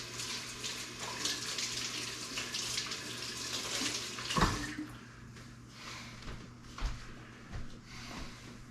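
Tap water runs steadily over hands being rinsed at a kitchen sink during pork sausage making, a continuous broadband wash that ends abruptly midway, followed by a few faint knocks and clatters.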